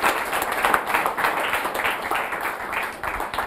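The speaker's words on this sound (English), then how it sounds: "Clap for him once again." Audience clapping for a speaker, a moderately loud, lively round of hand claps with an uneven, pulsing rhythm lasting throughout.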